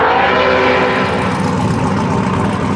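A turbocharged LS-swapped all-wheel-drive VW Bug roars through a burnout, a loud sustained engine howl with a broad rushing roar of spinning tires, close and unbroken for a few seconds.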